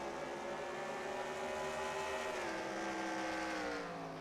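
A NASCAR race car laps the Sonoma road course in NASCAR Racing 2003, its engine a steady, loud, buzzing drone that shifts pitch slightly as it accelerates through the lap, with no voices.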